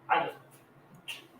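A dog barks sharply once at close range, followed by a fainter second yip about a second later, during an adoption-day gathering with several dogs around.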